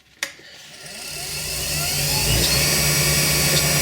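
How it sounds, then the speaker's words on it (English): Wood lathe spinning a pen blank at speed while a polishing stick is pressed against it, a steady broadband whir that swells and holds loud and continuous after a sharp start. "while the lathe is running I shall apply this"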